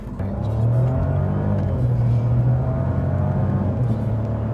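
A 2016 Smart Fortwo Brabus accelerates hard from inside the cabin, its engine droning loud and steady as it works through the gears, with a constant low rumble and road noise.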